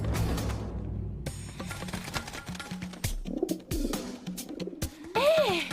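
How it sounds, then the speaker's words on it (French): Pigeon cooing in a bird-call guessing game on a comedy show, a few soft rounded coos mixed with other clicks and background noise before a rising-falling whistled call near the end. "C'est un pigeon"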